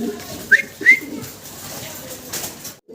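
Two quick calls from a black checker pigeon close by, over a low murmur of background noise.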